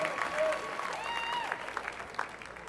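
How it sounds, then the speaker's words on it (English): An audience at a Dancing with the Stars-style charity dance show applauds, a sustained wash of clapping that fades toward the end while a voice talks over it. "Another round of applause."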